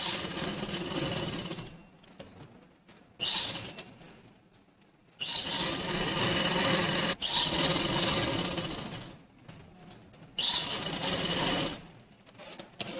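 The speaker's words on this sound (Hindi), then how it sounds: "मैं इसको चारों तरफ से सिल देती हूँ।" A sewing machine stitches a night dress in several sustained runs of rapid, buzzing clatter, each lasting a couple of seconds and separated by brief pauses, close and clear.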